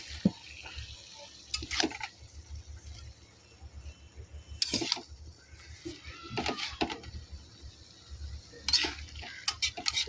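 Curry with turmeric and salt being stirred in a pan: irregular scrapes and clinks of a utensil against the metal pan, with a low steady sizzle underneath, moderately close and without talk.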